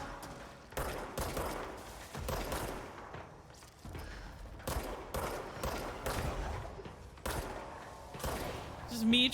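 Gunfire in the video game Control, rapid bursts of shots repeating in clusters across the clip, close and fairly loud, with a voice talking over parts of it.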